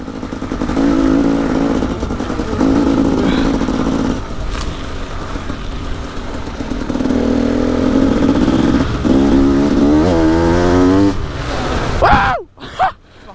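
A motorcycle ridden in heavy rain through flooding drones with a steady engine hum and rising and falling revs. The noise cuts off abruptly near the end.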